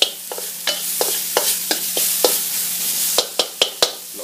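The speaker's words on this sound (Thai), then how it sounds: "พริกกับกระเทียมที่เราโขกไว้เมื่อกี้ลงไปผัด" Pounded chili and garlic stir-fry in a little oil, giving a loud, close, bright sizzle punctuated by a series of sharp spatula scrapes and taps that speed up toward the end, with no talking.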